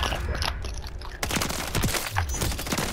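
A minigun unleashes continuous rapid fire in a Call of Duty Search & Destroy match on the Shoot House map, a loud, dense stream of overlapping shots with a sharp shift partway through, close and filling the whole stretch without talk.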